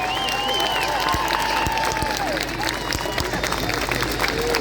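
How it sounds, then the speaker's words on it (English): A crowd at an anti-lockdown demonstration in Dublin claps and cheers steadily outdoors, a dense wash of applause with occasional distinct claps and a faint whistle-like tone over it. "I think a round of applause for these guys that work so hard for us and our country"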